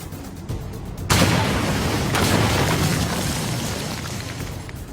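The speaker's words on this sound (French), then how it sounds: "on a tous les deux lancé une grenade dans le tunnel" A grenade blast inside a tunnel: a sudden heavy boom followed by a long, loud, rumbling roar that slowly fades, with no voices.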